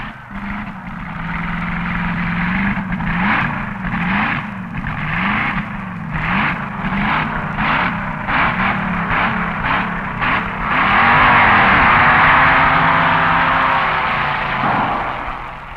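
Dragster engines at the 1961 NHRA Winternationals rev in a loud, rapid series of pulsing blips near the start line, then swell into a sustained roaring drone that fades slightly at the end.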